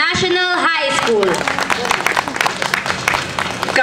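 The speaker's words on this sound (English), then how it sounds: "a big round of applause to Marcelo H. Del Pilar National High School" Audience applause for the Marcelo H. Del Pilar National High School performing arts group at Pasinaya 2017: a dense, loud wash of clapping swells in after a brief sung or spoken opening and carries on steadily.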